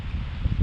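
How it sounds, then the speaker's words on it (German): Strong wind roaring steadily outdoors on a coastal road toward Narvik in northern Norway, loud broadband buffeting across the microphone with no break. "der Wind, alter Schwede, ist das ein Wind"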